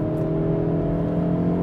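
A Hyundai Veloster N with a manual gearbox and turbocharged engine pulls hard to pass another car, its steady engine drone and whir strong and close throughout, with no voices.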